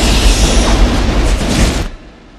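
Remote sentry guns in the film Aliens fire in a loud, dense, unbroken roar of automatic bursts that cuts off sharply near the end, leaving only a faint low rumble.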